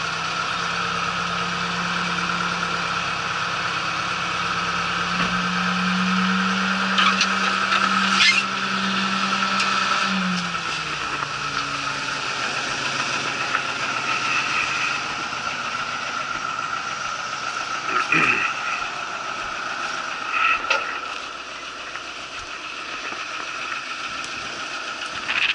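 A tractor engine idles steadily nearby with a low, constant hum. Its tone shifts partway through, then settles back into a running drone.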